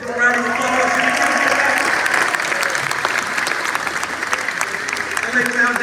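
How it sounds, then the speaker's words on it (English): A crowd claps steadily and loudly for several seconds at an LA Clippers facility dedication event in Los Angeles, a dense patter of many hands, with voices faintly mixed in. "Jimmy Kim, give a round of applause."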